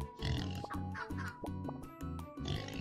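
Repeated cartoonish pig oinks and grunts in a steady run over bright game music in Turnip Boy Commits Tax Evasion, fairly loud and continuous.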